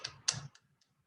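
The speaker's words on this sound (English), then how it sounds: "Slapping thighs, shuffling feet, and patting hands." Juba dance body percussion of slapped thighs, shuffling feet and patted hands: two sharp close slaps followed by a few softer taps fading out within about a second, with no voices.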